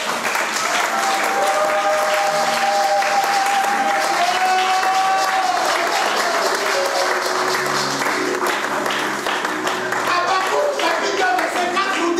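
A church congregation applauding during a sermon, dense sustained clapping and crowd noise from a large group, with voices and sung or called-out tones running underneath.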